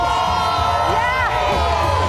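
An outdoor crowd gathered at Rockefeller Plaza on a cold morning, a steady loud wash of cheering and whooping voices with a sustained tone running underneath.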